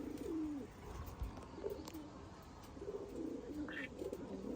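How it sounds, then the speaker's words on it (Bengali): Caged pigeons on a rooftop give several soft, low coos in repeated phrases against a quiet background. "কবুতরগুলো ছাদে ওঠানো হলো"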